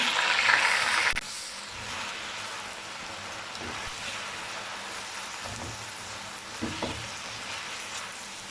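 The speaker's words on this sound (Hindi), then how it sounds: "अब चिकन को 4 से 5 मिनट के लिए अच्छे तरीके से भून लेंगे।" Chicken sizzling and frying in a pan while being cooked down for biryani, a steady close crackle with occasional stirring scrapes and louder bursts.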